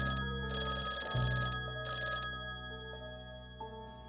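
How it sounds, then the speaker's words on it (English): A telephone bell rings in two bursts of rapid metallic trilling over a steady low hum, with faint clicks after the ringing stops. "Then suddenly the phone rings."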